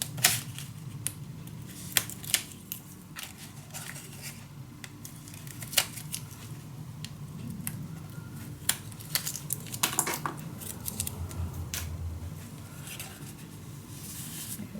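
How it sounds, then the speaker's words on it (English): Paper backing peeled away after burnishing while making a mini album, heard as soft crinkling and rustling with scattered sharp ticks and snaps, close and fairly quiet, no voices. "Burnish this down, of course. And then peel the rest off."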